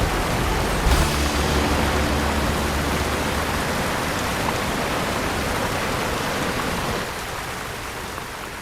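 Continuous rushing hiss of a mountain torrent along a trekking path in the Écrins, steady and fairly close, easing slightly in the final seconds.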